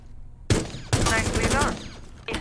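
Rainbow Six Siege tutorial gunfire at targets: two loud bursts of rapid shots, the second longer, with a brief shot at the end, close and harsh against a quiet background, and a voice faintly under the firing.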